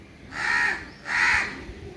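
Two loud, harsh crow caws ring out in succession, close by, with a short pause between them over faint background hiss.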